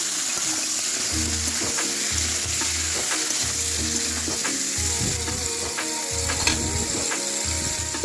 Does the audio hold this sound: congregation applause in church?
no